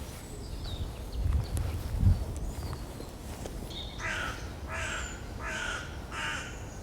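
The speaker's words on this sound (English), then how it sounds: "Crow calling" A crow caws several times at a distance, harsh repeated calls in a loose rhythm over faint outdoor background and a couple of dull thumps.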